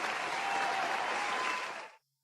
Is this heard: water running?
no